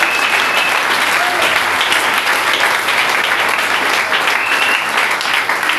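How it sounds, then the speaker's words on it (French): A church congregation applauding in praise during a French-language sermon, steady dense clapping filling the room near and loud, with voices mixed faintly into the applause. "Acclamez le Seigneur Jésus"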